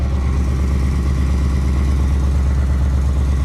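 A straight-piped Ford Mustang GT idles in its quiet exhaust mode, giving a steady, low, even rumble that stays constant and fairly close with no revving.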